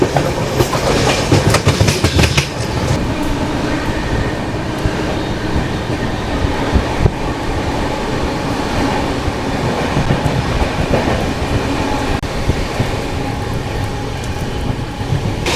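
A passenger train rolls loudly on the rails between Kolaghat and Kharagpur, heard from inside. A constant heavy rumble carries clattering wheel beats, and a burst of rapid clicks sounds near the start.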